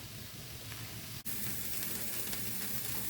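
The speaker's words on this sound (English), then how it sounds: "you can hear the sizzling in the background of the veggies" Quiet, steady sizzling of vegetables frying in a pan, a continuous crackling hiss with a brief dip partway through and no talking.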